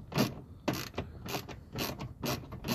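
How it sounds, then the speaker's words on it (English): A ratchet backs a bolt out of a tow mirror mount on a 2007-2013 Chevrolet Silverado, a close rhythmic series of clicking bursts with short pauses between strokes and no talk. "Take this last bolt out."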